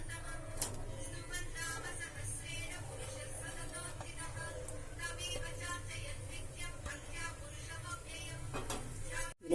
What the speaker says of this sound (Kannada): ಈಗ ಇದಕ್ಕೇನದ ನಾವು ಹೆಚ್ಚಿದ ಉಳ್ಳಾಗಡ್ಡಿನ ಹಾಕೋಣ ಅಂತ